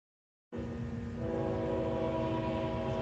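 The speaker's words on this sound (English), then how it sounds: "Train coming through Baxley." Train passing through Baxley, a sudden loud horn blast with a steady roaring rumble that holds on, close and alone.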